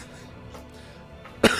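A single short, sharp cough rises out of quiet room tone near the end, close to the microphone and fairly loud against the otherwise still background.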